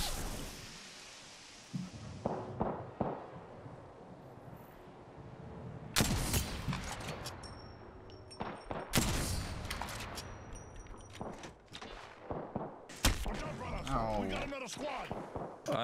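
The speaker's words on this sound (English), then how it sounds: "I'm getting shot!" Sharp bursts of gunfire in an Apex Legends-style shooter come in loud clusters, with quieter stretches in between. Other game effects and voices mix in and out.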